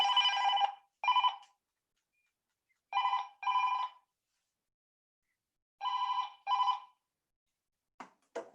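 A telephone rings indoors in a room where stamping crafts are being made. Three clear double rings are spaced a few seconds apart, followed by a brief clipped fragment, with silence in between.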